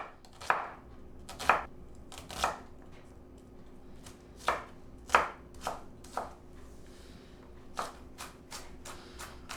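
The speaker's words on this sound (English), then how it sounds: "You don't have to be a professional to dice onion." A knife dicing an onion on a cutting board, about a dozen crisp separate chops spaced at roughly regular intervals, close and clear over a quiet background.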